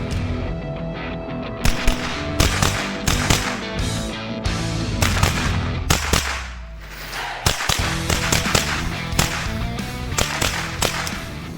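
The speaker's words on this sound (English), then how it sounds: "Now I have a machine gun." Zenith Firearms ZF-5 machine gun firing sharp, loud close-range bursts and single reports in an uneven rhythm, with short pauses between groups of shots and ringing decay after each.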